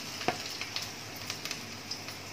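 Urad dal frying in hot oil for coconut rice: a steady, fairly quiet sizzle with scattered small crackles and pops, with no voices.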